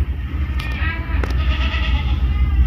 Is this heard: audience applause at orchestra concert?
no